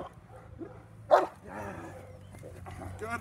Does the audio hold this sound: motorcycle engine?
no